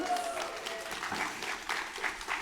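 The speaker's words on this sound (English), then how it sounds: "give her a big round of" An audience gives a volunteer named Cheryl a round of applause during a demonstration, with brief, moderately loud clapping and some faint voices underneath.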